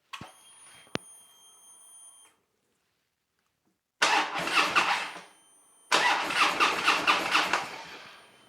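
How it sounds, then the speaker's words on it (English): Harley-Davidson Low Rider motorcycle engine cranked over with the starter: a brief high electronic tone first, then after a pause two loud, close bursts of rapid mechanical cranking churn, the second longer and pulsing rhythmically. "I'm going to just turn the bike over for a second to get all that oil moving around in there"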